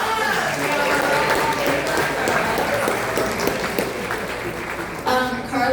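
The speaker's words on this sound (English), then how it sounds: "give Carlos a round of" An audience applauds a panel moderator at an education summit dinner, a steady wash of clapping with a few cheers, tapering slightly before a brief louder burst near the end.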